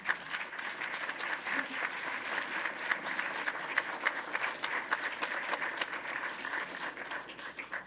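An audience applauds to welcome a speaker, a steady, even wash of many hands clapping in a hall, moderately distant and sustained throughout without talk.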